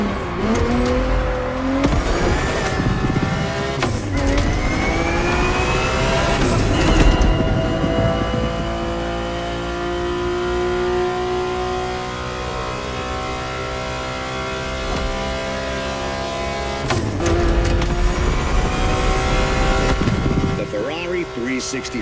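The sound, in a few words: Ferrari 365 GTB4 racing in video game Motorfest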